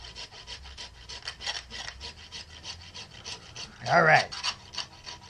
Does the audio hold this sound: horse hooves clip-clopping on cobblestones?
no